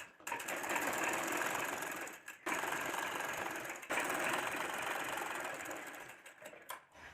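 A sewing machine stitches a half-inch seam on a pajama, whirring steadily and close in long runs broken by two short stops, with no voices.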